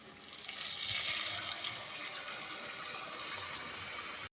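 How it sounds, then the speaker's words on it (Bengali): Water poured from a rinsed marinating plate into a pan of Bengali rui fish curry, a steady close splashing stream running the whole time without speech. "সেই প্লেটটা ধুয়েই আমি জলটা দিয়ে দিচ্ছি।"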